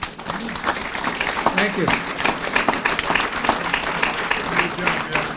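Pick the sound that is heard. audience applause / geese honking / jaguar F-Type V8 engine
audience applause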